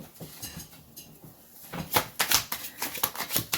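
Tarot cards being shuffled on a thick carpet, a run of crisp, rapid riffling flicks and soft slaps in the second half, close and fairly loud, after a quieter rustling start.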